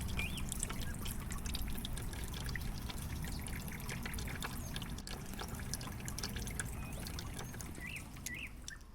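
Engine oil drains in a steady trickle from a 2022 BMW G310 GS motorcycle into a tray, a continuous close, soft pouring and dripping with no voices.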